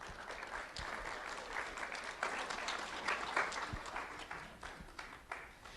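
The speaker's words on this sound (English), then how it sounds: "Round of applause for Joshua Ramos." An audience gives a round of applause for student Joshua Ramos at a sheriff's office recognition event, sustained clapping from a modest crowd that swells and eases over several seconds, with no one talking over it.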